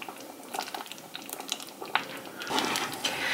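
Millet porridge simmering in a pot, a soft close bubbling with small irregular pops and wet blips that thicken into a fuller gurgle partway through.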